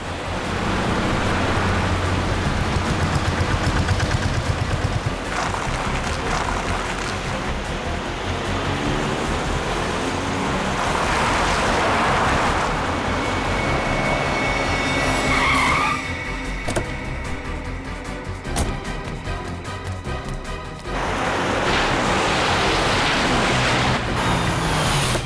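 A car speeds along very fast in a dramatic TV crime-show scene, giving a loud, continuous rushing roar with shifting tyre and wind noise for the whole stretch, and no one speaks.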